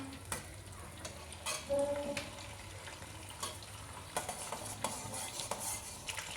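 Spices, chana dal and urad dal tempering in hot oil for a jackfruit curry, giving a steady crackling sizzle with occasional stirring clinks of a utensil against the pan, close and moderately loud with no voices.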